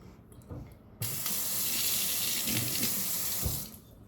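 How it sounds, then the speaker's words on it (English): A kitchen tap runs at full flow for about two and a half seconds as hands are rinsed beneath it, then cuts off, with a few soft knocks before it starts. "Let me rinse my hands up."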